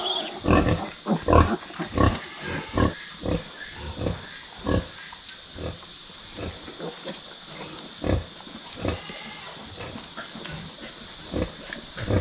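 Newborn piglets from a freshly farrowed sow grunting and oinking in repeated short bursts, close and fairly loud, with a steady hiss behind them.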